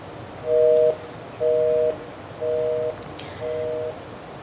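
An unanswered phone call on a live broadcast gives a busy signal: four evenly spaced steady beeps, each about half a second long, with the last two slightly quieter.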